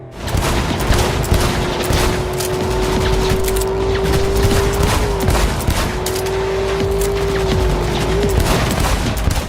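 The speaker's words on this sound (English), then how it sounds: "After a few very impressive explosions, we find a place to lie low" Loud, dense bursts of explosions and rapid gunfire crackle without pause in Cyberpunk 2077 gameplay, over a steady droning tone that wavers near the end.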